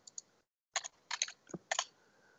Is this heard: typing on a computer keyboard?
yes